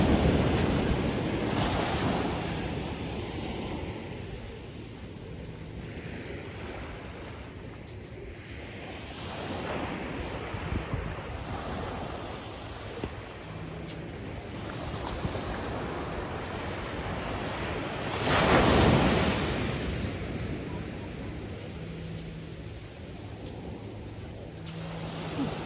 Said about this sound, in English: Let's walk the beach.